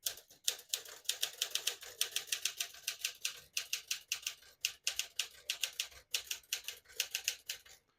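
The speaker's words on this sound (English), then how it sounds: "Beautiful typing machine." Keys strike on a 1958 Smith-Corona Silent-Super portable typewriter in quick, crisp bursts of clacks, with brief pauses and the occasional heavier thump of a carriage or space bar, close and fairly quiet.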